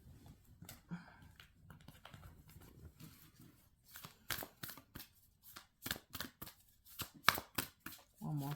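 Oracle cards being shuffled and drawn from a deck, soft rustling at first, then a run of sharp, rapid papery flicks and snaps close by.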